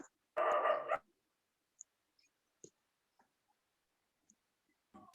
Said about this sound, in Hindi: सर डॉगी भौंक रहा है